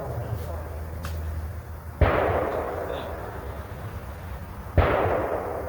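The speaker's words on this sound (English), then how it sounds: "It's the neighbors practicing the gunshots. They do target practice around here all the time" Two distant gunshots from neighbors' target practice boom a few seconds apart, each a sharp crack with a lingering rumble over quiet background noise.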